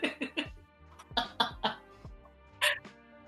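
A person coughs in a rapid fit: a quick cluster of three harsh coughs, a pause, then three more and a last louder one, close and alone with no talk.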